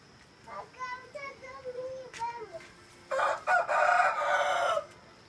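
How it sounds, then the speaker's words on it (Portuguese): Rooster on a rural smallholding crowing loudly and close by, a strained, wavering crow near the end, following a series of softer clucking calls, with a voice mixed in. "Pode ver o galo."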